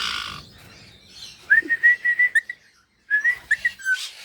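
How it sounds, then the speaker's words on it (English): A male twenty-eight parrot in a backyard aviary whistles a series of clear, bright rising and sliding notes in two bursts, fairly close, with a brief pause between them and no talking over it. "If you lucky, see, you hear him singing? He's a good singer."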